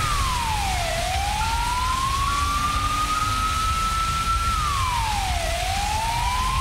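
Fire truck siren in the video game GTA V, a loud wailing tone that sweeps down, climbs slowly and drops again in one long cycle, over a steady rumbling background.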